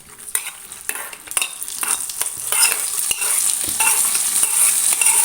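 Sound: raisins fried in ghee poured into payasam, sizzling

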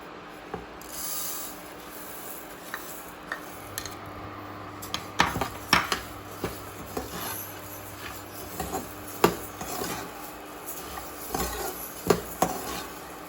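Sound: coriander seeds being dry-roasted in a pan

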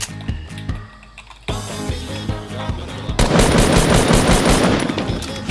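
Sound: gunfire in a video game

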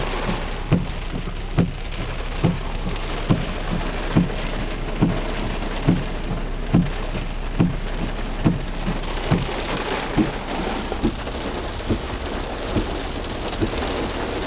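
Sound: rain in San Antonio

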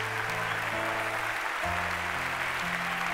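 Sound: church congregation applause for Christ

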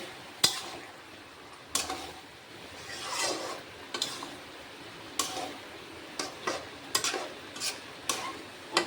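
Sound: stirring chicken kosha in pot after lifting lid

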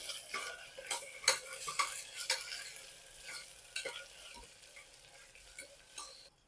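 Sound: onion with ginger-garlic paste being sautéed in a pan

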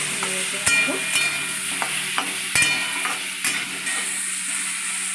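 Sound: stir-frying raw mango with turmeric in a pan

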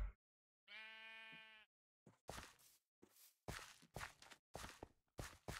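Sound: sheep bleating in a video game

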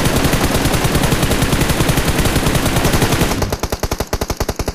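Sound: gunfire in the video game PUBG

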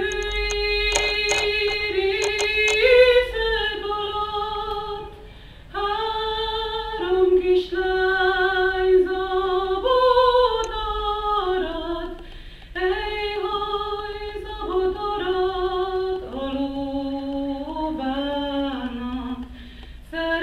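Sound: female singer performing Hungarian folk song

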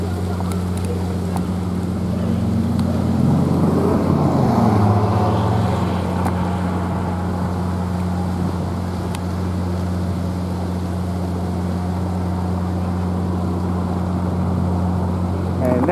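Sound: sheriff boat motor

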